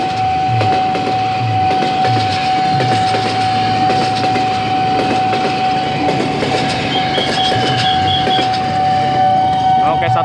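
Commuter electric train, a JR 205 series KRL bound for Bogor, rumbling and clattering steadily past a railway level crossing close by, with a crossing bell ringing and someone speaking over the noise.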